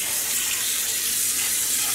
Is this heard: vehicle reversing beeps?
no